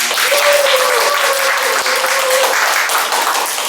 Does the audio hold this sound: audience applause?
yes